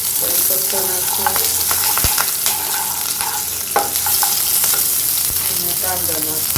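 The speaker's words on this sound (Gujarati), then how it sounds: "અડદની દાળ અને ચણાની દાળ 1 ટીસ્પૂન લીધી છે, એ શેકશું" Urad and chana dal with chillies and curry leaves crackle and sizzle steadily in hot oil, a busy frying hiss with sharp pops and occasional spoon scrapes against the pan throughout.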